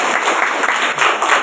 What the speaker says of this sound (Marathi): सगळ्यांनी जोरदार टाळ्या वाजवायच्या त्यांच्यासाठी